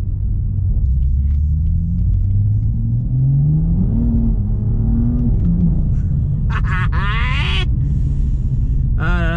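A BMW M2 engine revs loudly and close up in the Bois de Boulogne park in Paris, a deep rumble climbing and falling in pitch over several seconds before sharp high-pitched whining bursts near the end.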